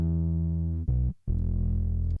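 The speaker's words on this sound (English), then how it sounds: "We added some like compression distortion." A sustained distorted, compressed synth or bass tone on a music track, loud and harmonically dense, with a brief break before the gritty, buzzing tone resumes.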